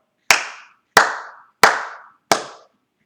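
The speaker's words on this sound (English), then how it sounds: "We're going to clap each one after we do it." A fourth-grade music class claps a rhythm together: four sharp, evenly spaced claps at close range, each ringing out briefly before the next, with silence between.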